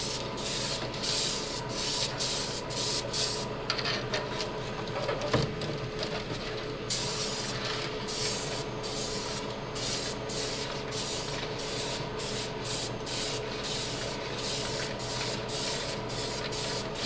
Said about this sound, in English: So we're going to spray it on.